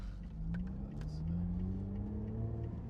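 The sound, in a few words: sports car engine accelerating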